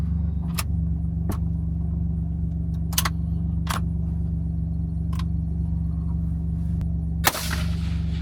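During a hunt a single sharp gunshot cracks out near the end, loud and close, over a steady low engine rumble with scattered light knocks and rattles.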